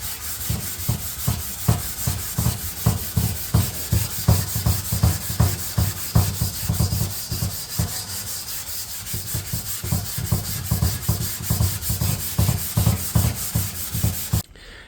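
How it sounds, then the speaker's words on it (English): Steady rhythmic hand sanding of black paint on a Volvo Amazon car panel, a rough back-and-forth scrubbing stroke repeated about twice a second, close and continuous. "you can, when sanding this black paint, see where the flat spots are."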